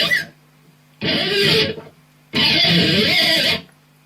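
A guitar pick dragged down the length of electric guitar strings in a pop-punk lesson setting, two separate scraping sweeps, each about a second long, loud and close with a steady hum between them.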